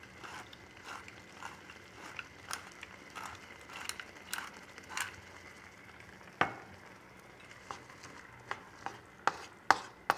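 Scallions and pepper stir-fried in an electric wok, a run of irregular sharp clicks and scrapes of a utensil tossing food against the pan over a faint sizzle, close and fairly quiet.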